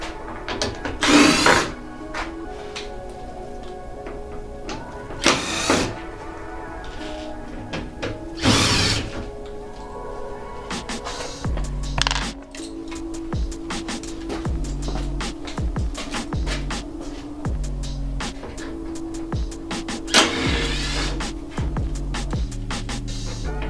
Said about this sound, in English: So you're gonna go ahead and you're gonna pull all those screws out